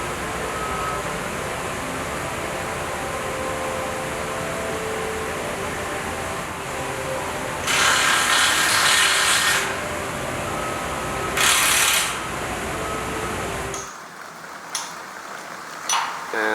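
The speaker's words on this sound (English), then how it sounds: "We're tightening down some of those bolts." A power tool tightens bolts on a roller coaster under construction. Two loud, rough whirring bursts, one long and one short, stand out over steady outdoor site noise.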